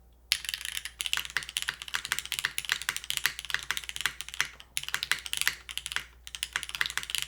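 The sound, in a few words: typing on Tofu full-size mechanical keyboard, aluminum plate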